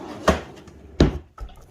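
Drawers on a drill press tool cart thump open and shut, two sharp knocks about a second apart and a softer third, close and fairly loud in a quiet shop.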